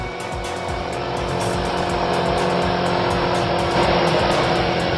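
Moped riding up and braking to a stop, a loud continuous motor whir that holds steady and swells slightly near the end, close by with no talking.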